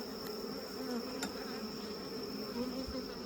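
Honeybees buzz steadily around an opened beehive during an inspection, a constant close drone of many agitated bees that holds at a quiet, even level throughout.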